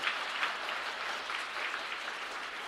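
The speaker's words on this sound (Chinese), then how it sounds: "我们再一次用热烈的掌声，谢谢江老师在我们当中" Sustained applause from a church congregation during a Sunday worship service, steady and dense throughout, with no talk over it.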